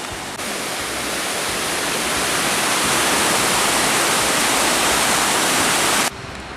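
Flowing water of the Siagne trout river pours continuously, a loud, close, wide hiss of rushing current that holds steady for several seconds before dipping slightly at the end; no one speaks.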